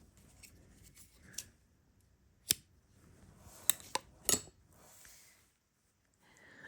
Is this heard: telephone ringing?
no